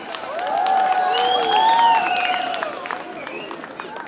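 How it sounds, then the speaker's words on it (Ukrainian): A crowd applauds at a town Christmas tree opening ceremony, scattered clapping swelling then easing, mixed with sustained tonal sounds and voices. "Прошу, вітайте оплесками!"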